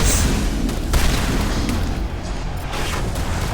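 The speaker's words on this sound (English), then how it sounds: "Let's see if we can do a bit of tech explosions." Tech explosions from combat against Thorian creepers in Mass Effect Legendary Edition, a dense, continuous roar of booms and bursts with no clear pauses.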